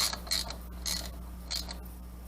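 Screws on the carburetor of a Sea-Doo SPX GS 717 engine are snugged down with a hand tool, giving a few short ratcheting clicks and metallic creaks close by, over a steady low hum.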